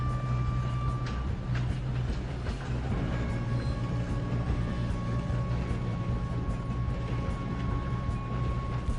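Train in the game Red Dead Redemption 2 rolling along, a continuous low rumble with faint rhythmic wheel clatter and a steady hum, heard alone without talk.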